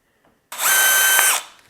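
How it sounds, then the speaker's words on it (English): A power drill bores a screw hole while mounting a metal iron baluster, one loud steady whine lasting about a second before spinning down, close to the microphone and without talk. "And then I'll go ahead and drill the second hole and put the second screw in."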